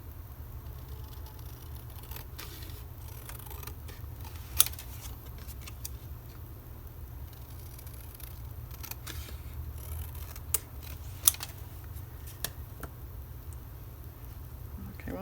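Scissors trimming a paper collage piece, a handful of faint scattered snips and small clicks over a low steady room hum.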